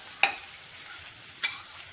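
Onion and curry leaves frying in a pan give a faint, steady low hiss. Two sharp stirring scrapes cut through it, one near the start and one past the middle.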